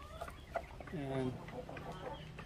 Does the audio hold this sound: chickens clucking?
yes